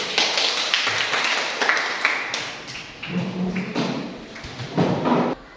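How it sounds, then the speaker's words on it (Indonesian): A small audience claps hands in an irregular burst of close taps and thuds for several seconds, fairly loud, then stops abruptly. "Ya, tepuk tangan dulu."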